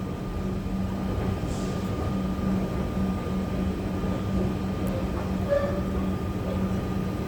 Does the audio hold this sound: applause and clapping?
no